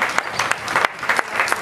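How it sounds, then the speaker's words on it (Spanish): Audience applause at a public political visit and talk in Tejupilco, Mexico: a short burst of steady, dense clapping from a nearby crowd with no voices over it. "Suelta el aplauso, gracias."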